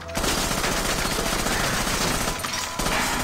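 Gunfire in the video game Assassin's Creed Rogue rattles as continuous rapid automatic fire, loud and dense, with a brief drop near the end before the shooting resumes.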